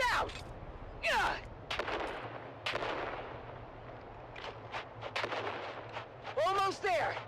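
Grenades blow up amid bursts of gunfire in the video game Dune Awakening: a string of sharp, loud blasts and crackling shots spread across the stretch, with voices shouting between them over a low rumble.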